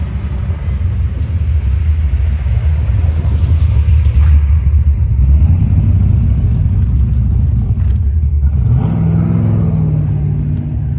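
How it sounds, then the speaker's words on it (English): A car with a loud, barely legal muffler rumbles past on a downtown street, a deep, heavy exhaust roar that swells as it nears and then fades as it moves away, with no talking. "Barely legal muffler on that."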